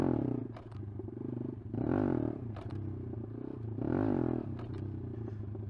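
Honda Grom motorcycle engine revving in repeated surges as the clutch is popped for wheelies, with a steady low idle rumble between two louder bursts, close and loud.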